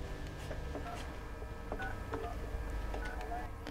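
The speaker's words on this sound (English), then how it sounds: "I can't wait to get on the phone and tell Katie the good news." Telephone dialing tones, a sequence of short electronic beeps of differing pitch pressed one after another in a quiet room with faint background murmur.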